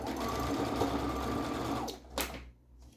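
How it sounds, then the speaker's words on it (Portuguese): Sewing machine running steadily for about two seconds while stitching bias binding onto fabric at a neckline, then stopping, followed by a brief handling clatter. "e inicio a minha costura"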